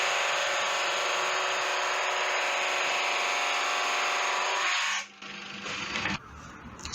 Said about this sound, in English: Relatively new blade is just great for resawing a piece of wood like this.